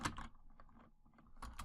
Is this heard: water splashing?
no